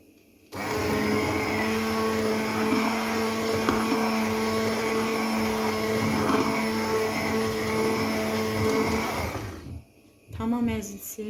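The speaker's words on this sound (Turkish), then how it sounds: "Bax, uzunluğu dəmir olan blenderi isti-isti salmaq olar." A metal-shaft immersion blender whirs loudly and steadily for about nine seconds while pureeing hot cooked red peppers, then cuts off abruptly, followed by a brief voice.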